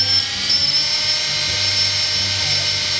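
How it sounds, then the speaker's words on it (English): A power drill bores a hole in a motorcycle bracket for lower bag fillers on a Victory Cross bike, giving a steady, loud, high-pitched whine that holds unbroken throughout. "Just drill your hole and just start slow."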